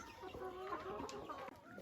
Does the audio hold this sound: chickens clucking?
yes